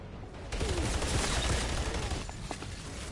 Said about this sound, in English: And now we got an SMG instead of a shotgun.